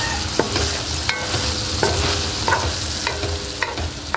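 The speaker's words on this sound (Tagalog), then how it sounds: "Medyo lutuin natin yung gulay mga idol ha, para mas lilinit yung pagkain ba." Pakbet vegetables with bagoong cook in a pan, giving a loud, steady frying sizzle broken by regular scraping strokes and clicks as they are stirred, with no voices.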